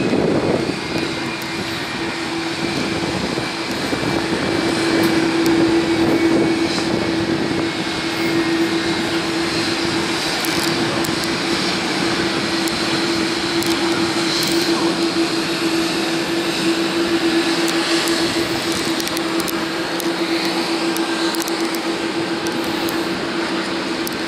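Aircraft engines at Narita Airport in Japan, heard from the terminal observation deck as a steady, loud jet roar with a constant hum throughout and no talking.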